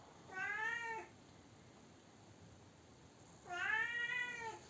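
A cat meows twice while climbing down headfirst, two clear, drawn-out calls spaced a few seconds apart over a steady low background hiss.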